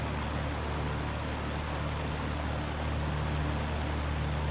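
A Lancair Legacy propeller engine running steadily in the FSX flight simulator, a constant broadband drone with a low hum and no pauses, heard close and alone.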